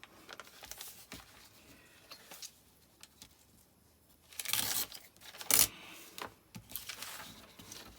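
Thin, light paper tears against a ruler in a few quiet bursts of ripping, with a louder rip near the middle and softer rustles around it, close and without talk.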